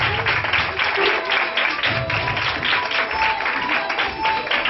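An audience at a school quiz contest claps for student contestants, a full and steady round of applause filling the room at close range for several seconds.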